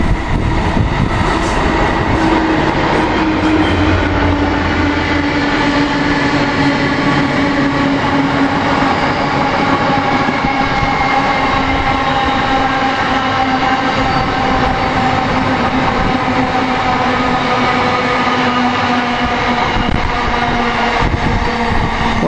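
Train with locomotives passing near Wellingborough, a loud continuous rumble with rhythmic wheel clatter and steady tonal engine drone throughout, close by and alone without talk.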